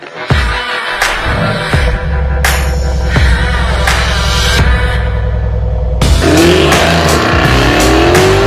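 A supercar makes a short acceleration run, its engine roaring loudly through rapid revving gear changes with sharp shifts, then a higher-pitched surge of speed toward the end.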